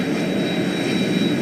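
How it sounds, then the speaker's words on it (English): An aircraft takes off in the PS2 game Shadow Hearts Covenant, a loud continuous engine roar filling the short moment without variation. "That was one of my smoothest takeoffs."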